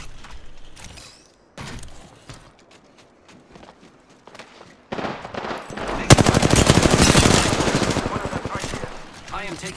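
Automatic gunfire from the Apex Legends video game comes in rapid rattling bursts, sparse at first, then a loud sustained volley that gradually fades, with game character voice lines heard between the shots.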